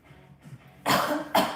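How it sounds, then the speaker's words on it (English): A person coughs twice in quick succession, close and sharp, after a moment of near silence, while turning away from freshly cut marshmallows. "I'm not coughing over the candy."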